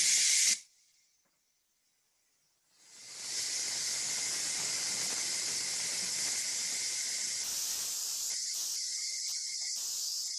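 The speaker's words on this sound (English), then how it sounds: "Here's my steam." Steam hisses steadily from a pot of soup on a kitchen stove, a loud continuous rush that starts after a brief pause and keeps going for several seconds, briefly sputtering near the end.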